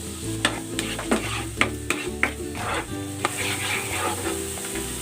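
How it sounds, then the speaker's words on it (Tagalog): Garlic and onion sauté in melted butter in a pan, a loud close sizzle punctuated by sharp rhythmic clacks of a spatula stirring against the metal. "Igigisa ko na tong bawang."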